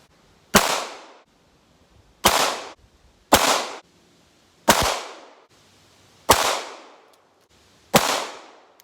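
Six sharp, loud pistol shots from a Glock 34 with an RMR sight, fired at a 25-yard target, spaced irregularly one to two seconds apart, each crack trailing off in a brief reverberant decay, with no talking.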